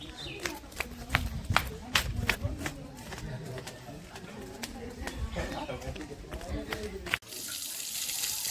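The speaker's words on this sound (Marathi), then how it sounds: "बाबा पाणी भरतायत" Tap water runs steadily into a vessel as someone fills it outdoors in a Konkan village, a continuous close wash with scattered knocks and bird calls, then a sudden shift to brighter hiss near the end.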